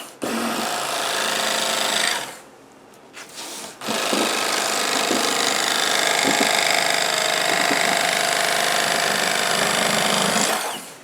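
Bass Pro Shops XPS electric fillet knife slicing a fish fillet, a loud continuous buzzing whir that runs for about two seconds, drops out briefly, then resumes steadily for about seven more seconds.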